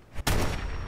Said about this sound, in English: Hear all that gunfire